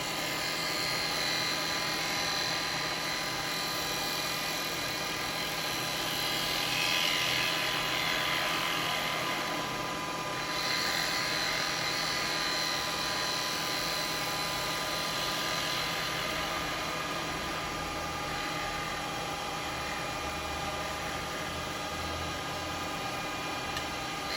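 A wood lathe turns a lidded box while a spindle gouge cuts: a continuous, even whirring hum with a hissy cutting texture that swells slightly partway through, close and steady with no talk.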